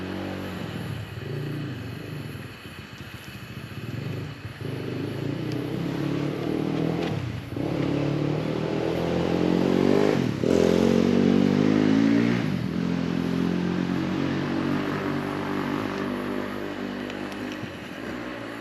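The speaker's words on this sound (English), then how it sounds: "There's a motorcycle." A motorcycle engine rumbles steadily in the distance near woods at Jordan Creek OHV Area, swelling louder midway as it passes and then easing off, with no voices.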